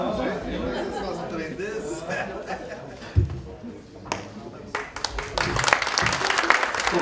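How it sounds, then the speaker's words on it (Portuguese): Audience applause rises at an award ceremony, mixed with crowd chatter and a voice over the room, and the clapping grows denser and louder toward the end. "Nossos aplausos, agradecimentos"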